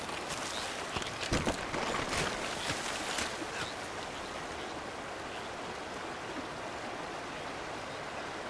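A waterfall in Uncharted: Drake's Fortune gives a continuous broad rushing roar, steady and fairly loud throughout, with a few brief crackling splashes early on.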